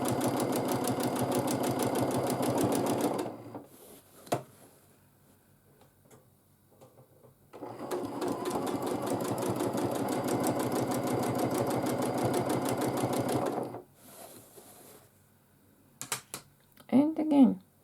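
Sewing machine free-motion quilting small tight swirls on half-square-triangle blocks, two long bursts of fast, close needle ticking separated by a quiet gap, then short stops and starts with brief sounds at the end.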